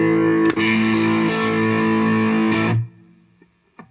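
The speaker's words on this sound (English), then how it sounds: "will then simply turn off the loop and activate the amp distortion" A guitar amp's distortion channel, switched in through a Joyo PXL Pro effects looper, rings out a single loud, sustained overdriven chord that holds for nearly three seconds before cutting off abruptly, leaving a faint tail and small noises.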